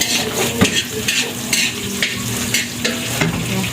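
Food is stirred and sautéed in a burnt cooking pot during meal preparation for a community feeding, with a steady close sizzle and repeated scraping clinks of a utensil against the pan.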